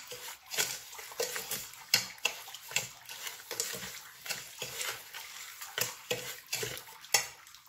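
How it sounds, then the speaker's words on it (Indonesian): A utensil stirs black forest pudding mixture with sugar in a pot, making a run of light, irregular scraping and clinking strokes, close and fairly quiet, with no talk. "Dan kita aduk."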